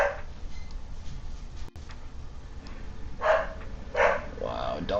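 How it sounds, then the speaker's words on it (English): Dogs bark somewhat distantly in short bursts, a couple of louder barks standing out over steady background noise. "Wow, dogs are really going nuts."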